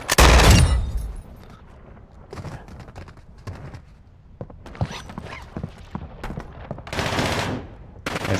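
Gunfire in the Warzone 2.0 DMZ video game: bursts of automatic fire and scattered shots come and go over roughly eight seconds, with a loud blast at the start and further bursts near the end.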